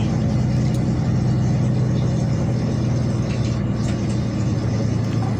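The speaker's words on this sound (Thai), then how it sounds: "ข้างหน้าเราจะเป็นรถแก๊สนะคะ" Steady engine drone from a vehicle on a mountain road toward Chiang Dao, with a gas truck driving ahead; a constant mid-level rumble heard from inside, no talking.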